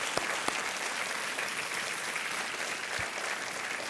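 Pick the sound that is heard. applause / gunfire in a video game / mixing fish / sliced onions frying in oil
applause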